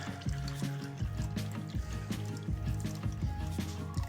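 Engine oil drains from a Datsun 240Z during an oil change, a close, continuous liquid gurgle and splashing trickle into a catch pan, with bubbly pulses over several seconds and no voices.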